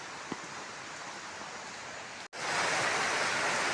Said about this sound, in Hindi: तो यहाँ पे देखो पूरा झरना ही बह रहा है ऊपर चट्टान से।